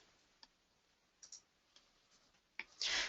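Computer mouse clicks while operating gridding software on a desk: several sharp, isolated clicks spaced irregularly over a few seconds, quiet and close, with a louder burst of clicking near the end and no talking.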